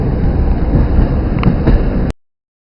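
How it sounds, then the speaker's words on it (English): A train shunting back and forth at a border crossing on a rail journey to Beijing: a steady close rumble with a thin constant whine and a few faint clanks, cutting off abruptly after about two seconds. "So the train is going back and forward."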